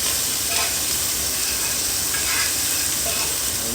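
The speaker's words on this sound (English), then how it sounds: "We're gonna cook the onions." Onions cook in a pan for smothered pork chops, giving a steady, even sizzle and hiss with soft stirring scrapes, close and continuous throughout.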